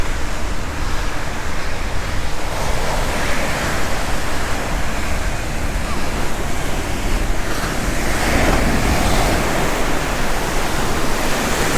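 Ocean waves rolling onto an Oahu beach make a loud, continuous roar of surf with slow swells of wash and some wind rumble, close by and with no voices.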